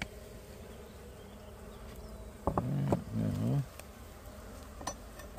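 Honey bees hum steadily around an open hive box in a beekeeping yard, a faint continuous buzz with a short spoken phrase cutting through in the middle.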